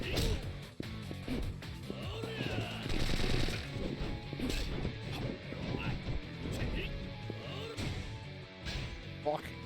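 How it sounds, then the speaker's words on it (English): Machine gun fire and gunshots during a fight in the PC game Yakuza 4 Remastered, in bursts of rapid cracks and impacts, with a player talking loudly over the shooting throughout. "I don't know how to properly dodge a machine gun"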